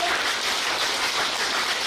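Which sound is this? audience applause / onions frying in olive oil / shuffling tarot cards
audience applause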